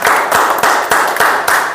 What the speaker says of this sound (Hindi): ताली बजाइए, एकदम जबरदस्त।